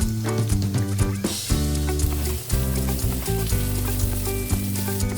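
Red onion, garlic and ginger sizzling and sputtering in a hot pan for chicken curry, loud continuous frying crackle with stirring scrapes and irregular clatter close up.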